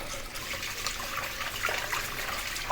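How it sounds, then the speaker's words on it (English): Tap water runs and splashes over raw beef pieces in a strainer, a steady close hiss with small trickling bursts, no voices. "Put it back and rinse it a few times."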